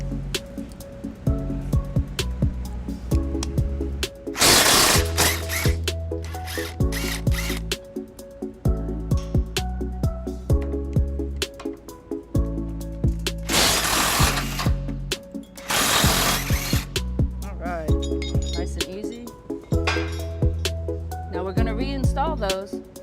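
Bolts coming off the front of a 2014 Toyota Tundra with a ratchet during a front mount hitch install: rapid clicking ratchet runs and metallic tool clanks, loud and close, in repeated bursts.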